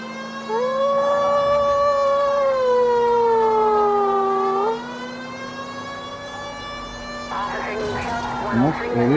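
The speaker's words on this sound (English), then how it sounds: "Most irritating siren I've ever heard." Loud wailing siren from a police video game, with long rising and falling tones that shift into a faster yelp near the end, sustained over engine and background game noise.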